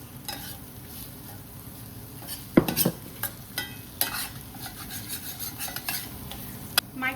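Fried potatoes are stirred in a frying pan, scraped with a utensil in repeated clattering strokes over a low sizzle, close and fairly quiet.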